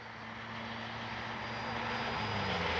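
An FMS 90mm Super Scorpion V2 RC jet makes its steady, rising turbine whine on its maiden flight, a continuous broadband rush that builds in loudness as it passes overhead, with no talking.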